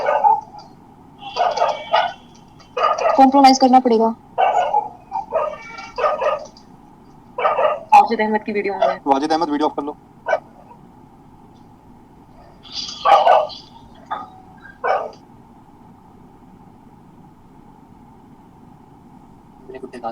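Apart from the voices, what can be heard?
dogs barking in the background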